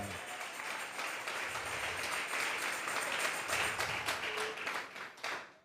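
A congregation at a Sunday church service gives an offering of applause to God, a fairly faint, sustained patter of clapping heard from a distance with a faint voice or two underneath, fading out at the end.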